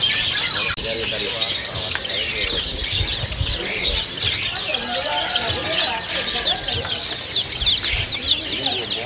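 Busy canary birdsong and chirping fill the air at a bird market, with hens clucking low underneath, a continuous lively chorus close by.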